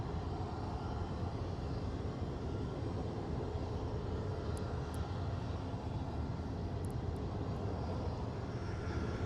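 An RAF C-17 Globemaster's jet engines give off a steady, broad roar at Blackpool airport. It stays fairly faint, as if heard from a distance, and continues without break, with no voices.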